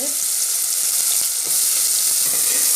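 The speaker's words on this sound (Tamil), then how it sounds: "எண்ணெய் நல்லா சூடாயிடுச்சு இப்போ நம்ம வந்து வெங்காயம் போட்டுக்கலாம்" Onions fry in hot oil inside a pressure cooker for a chickpea curry, giving a loud, close, continuous hiss with faint stirring scrapes beneath and no talking.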